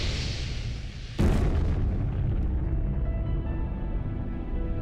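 A booming explosion from a moon crater impact bursts loudly after a moment of low rumble, then rolls into a long, gradually fading roar with a faint high ringing tail.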